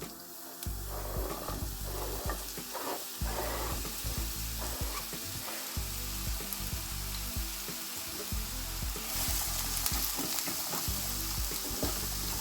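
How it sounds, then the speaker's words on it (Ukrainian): Continuous oily sizzling and crackling from onion frying in oil in a frying pan, with faint clinks and a low rhythmic hum underneath. "Поки смажиться цибулька"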